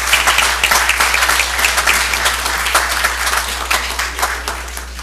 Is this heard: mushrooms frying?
no